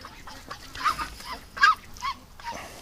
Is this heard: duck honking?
yes